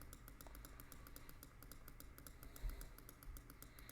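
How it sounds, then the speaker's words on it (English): Rapid, steady clicking close to the microphone while playing the Dream Daddy video game, a fast regular train of light taps over a low background hum. "My hand is getting tired from clicking."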